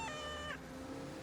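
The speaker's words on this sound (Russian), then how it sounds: "Котенок жалобно пищал" A kitten trapped inside a car engine gives a single thin, plaintive meow that rises and falls, faint and muffled against a low background hum.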